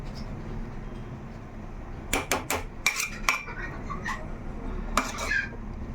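A metal spoon stirs and mixes chicken biryani in a pot, giving clusters of sharp, close clinks and scrapes in two short bursts over a low, steady background hum.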